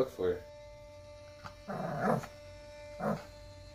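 A dog growls and whimpers in short bursts close by, and a few separate rumbling and whining sounds are broken by pauses, in a workshop setting.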